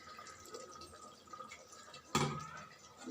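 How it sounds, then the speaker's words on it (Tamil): Tamarind water poured into a pot of brinjal sambar: faint trickling and dripping, then a sudden louder splash of liquid that trails off, heard alone without talk. "கொஞ்சம் புளி கரைசல் ஊற்றிக்கலாம்"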